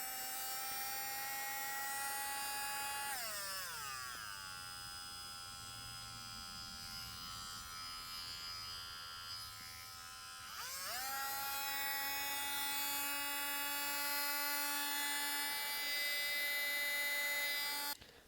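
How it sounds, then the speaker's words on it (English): A new Ryobi 4-volt cordless rotary tool runs at a steady high-pitched whine, drops to a lower speed for several seconds, then rises back to full speed and cuts off at the end; no one talks. "So we'll go ahead and fire it up here"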